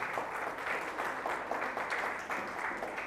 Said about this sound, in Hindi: आइए जोरदार ताली से उस खुदावंद यीशु मसीह को धन्यवाद करें